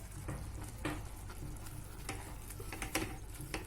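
Half-fried potatoes stirred into spinach curry in a pan give a soft, steady sizzle, with a string of spoon scrapes and taps against the metal.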